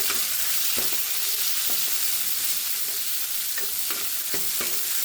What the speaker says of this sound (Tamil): ரெண்டு பச்சை மிளகா, தக்காளி போட்டுக்கலாம், நல்லா வதக்கிக்கலாம்.